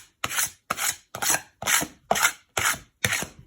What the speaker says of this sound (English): burnishing it is holding this at a 45-degree angle and just pulling it across your board.